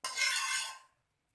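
Egg fried rice with vegetables stirred in a pan over a low flame: a single quick metallic scrape of a spoon against the pan, close and bright, lasting under a second before fading to silence.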